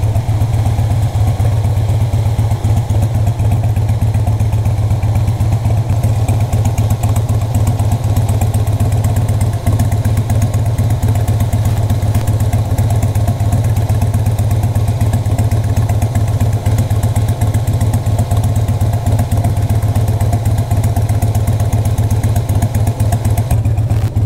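A Harley-Davidson Sportster motorcycle engine runs steadily while riding, a loud, close, low throbbing rumble with rapid even pulsing that holds constant throughout, no speech.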